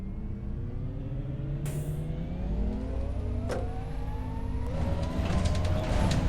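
A gas-powered city bus engine in the OMSI 2 driving simulator suddenly races, a steady loud drone with rising rev tones over several seconds, plus a few brief hissing clicks and no talk.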